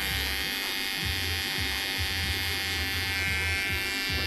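Electric hair clippers buzz steadily during a barbershop wall-taper cut for a textured crop, close and continuous with the motor tone dipping as the blades move through hair.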